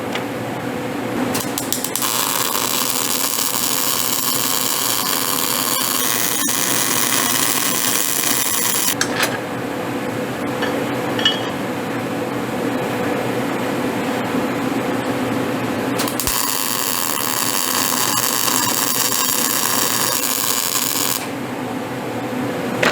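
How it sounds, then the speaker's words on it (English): Welding on the front clip of a 1940 Chevy coupe makes a loud, steady crackling hiss in three long bursts with short breaks between them, and no voices. "Let me get this welded up."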